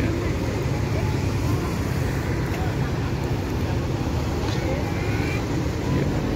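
Traffic rolls past Karangpucung bus terminal on a national road in southern Java, a loud, steady rumble of engines and road noise that fills the whole stretch without pause.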